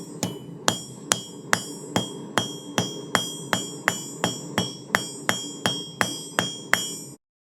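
A hammer strikes a hot nail point on an anvil in about seventeen sharp, ringing blows at a steady, brisk rhythm, each a bright metallic clang up close with no talk, ending abruptly.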